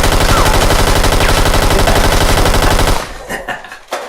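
A modded Nerf blaster fires in a loud, dense, rapid mechanical burst for about three seconds, then stops abruptly, leaving a few scattered knocks and rustles.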